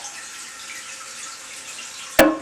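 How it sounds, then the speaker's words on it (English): Water flows into a newly installed replacement toilet bowl with a soft, steady trickle, and a sharp splashing burst comes near the end. "The bowl's filling up."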